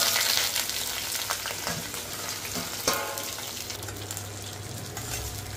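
Cucumber chutney ingredients fry and sizzle in a pan, with a steady crackling hiss and occasional stirring scrapes at moderate level, no speech over it.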